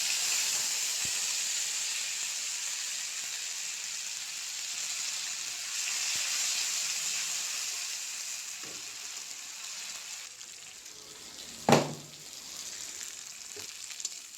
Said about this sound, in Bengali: দিয়ে ভালো করে মশলাটা ভাজি করতে হবে